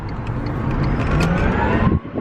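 An open-top electric car without power steering driving, with steady road and motor rumble plus wind noise, a faint whine rising briefly, all fairly loud and close.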